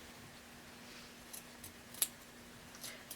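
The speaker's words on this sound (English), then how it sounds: "I will trim my seam allowances over a trash can because it's like confetti" Scissors trim the seam allowances of sewn fabric over a trash can, making a few faint, scattered snips in an otherwise quiet room.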